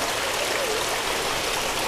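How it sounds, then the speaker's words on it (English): Steady rushing trickle of water overflowing from an aquaponics plant filtration vat, continuous and close with no talk. "now once the water runs into the vat,"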